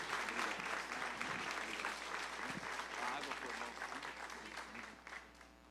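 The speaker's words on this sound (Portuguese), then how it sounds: "Então, vamos receber o servo de Deus, aplaudindo o nome de Jesus." A church congregation claps continuously to welcome the preacher, a dense, sustained wash of applause with voices cheering and calling out underneath, fading slightly at the end.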